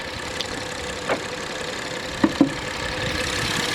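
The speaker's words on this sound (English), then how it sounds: "this is the engine" A 2018 Ford Explorer police interceptor engine idles steadily at a mid pitch, with a few small knocks and clicks rising above the constant rumble.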